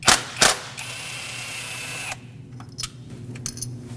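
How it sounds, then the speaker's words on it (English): A hand tool on a 2.5L four-cylinder Nissan Frontier: a couple of sharp metallic clicks, then a sustained whirring, as a 10 mm socket removes an ignition coil hold-down bolt, followed by lighter scattered clinks nearby. "Use a 10 millimeter socket and remove the bolt that holds it down."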